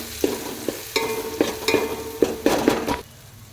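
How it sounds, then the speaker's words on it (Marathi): Hot oil sizzling and crackling as coconut and garlic are tempered, with a spoon clanking against the pan several times before the sizzle fades. "तेल मस्त तापलंय आपलं. खोबरं आणि लसणाची फोडणी देऊन घेऊयात."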